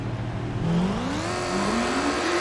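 A truck engine in the off-road racing game ATV Offroad Fury 4 revs steadily, its whining pitch sliding up and down as it accelerates, loud and continuous throughout.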